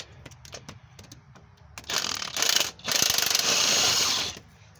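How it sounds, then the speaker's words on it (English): A DeWalt power tool works a transmission bolt loose on a Chrysler Voyager: a loud, close mechanical whirring in two bursts, broken by a short pause, after lighter clicks and rattles of handling the tool. "now we're going to use the big bad DeWalt here"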